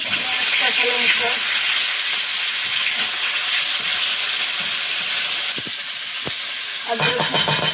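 Green chillies and panch phoron spices hit hot oil in a kadai for a raw banana curry, a loud continuous hiss and sizzle with a few clinks and stirs near the end, with no talking.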